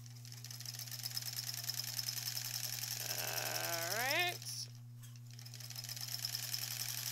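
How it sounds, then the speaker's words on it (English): Sewing machine stitching the back of a granny squares quilt, a steady fast mechanical whir with a steady hum, its pitch rising briefly as the stitching speeds up, then settling back to a steady run. "This is sewing to the center square, this white piece."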